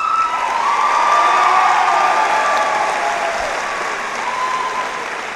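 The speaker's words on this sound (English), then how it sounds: "A big round of applause for the Class of 2018 advisors." A high school graduation audience in Dunkirk, New York applauds the Class of 2018 advisors, a broad sustained wave of clapping from a large crowd with faint cheers and whoops mixed in.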